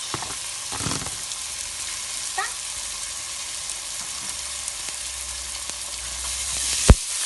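Carrots for party fried rice fry in a pan with a soft, continuous sizzle, a few light stirring scrapes and a sharp clack near the end.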